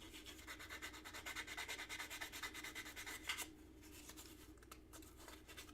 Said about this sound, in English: we want to go ahead and sand that because I know that there's burrs and whatnot